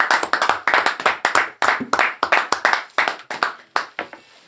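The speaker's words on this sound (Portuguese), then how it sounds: "Pode aplaudir, pode aplaudir." Close, crisp clapping from a small church congregation, a few people's hands striking in quick irregular bursts that stay loud and then thin out toward the end, with no voices.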